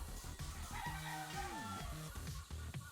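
Sweater breed gamefowl roosters on a game farm make faint, short clucks and a brief crowing call, with other birds in the background.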